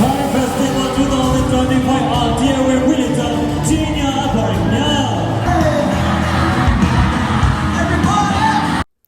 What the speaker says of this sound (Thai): เสียงกรีดนี่ดังมากเลยค่ะ